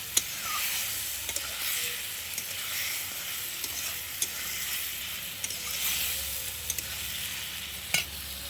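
Ground spice paste made with green chillies fries in hot oil for a village-style fish curry, giving a continuous hiss with sharp spoon clicks and scrapes against the pan at intervals, no voices.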